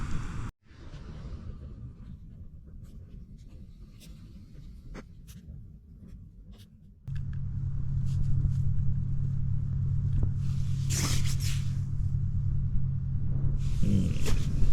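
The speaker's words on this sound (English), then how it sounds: "you can hear the road in the background" Steady low rumble of road traffic carries through a quiet night camp in the Western Victoria bush. A faint hiss fills the first half, then a louder, denser drone swells from midway on, with occasional soft rustles and clicks.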